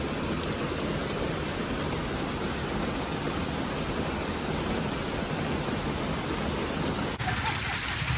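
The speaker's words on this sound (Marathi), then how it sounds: "बघा पाऊस किती मस्त पडते." Steady heavy rain pouring down beside a road, a dense, unbroken wash of hiss that barely changes for several seconds.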